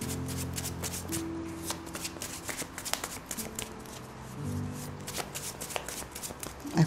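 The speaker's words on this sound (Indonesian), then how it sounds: "Bunda akan shuffle kartunya dulu." Tarot cards shuffled by hand at close range, a steady run of soft riffling flutters and papery slaps across the clip with faint low background hum.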